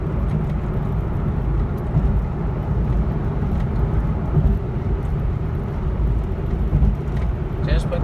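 A 2005 Porsche 911 Carrera S, freshly reassembled after a coolant-leak repair, drives at night with a steady, continuous engine and road rumble throughout, mixed with voices talking.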